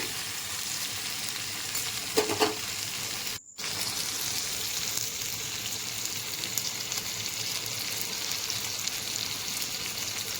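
Onions, tomatoes and chillies fry in hot oil for an egg masala gravy, giving a close, steady sizzle and crackle with a short stirring scrape partway through and a brief dropout, without speech.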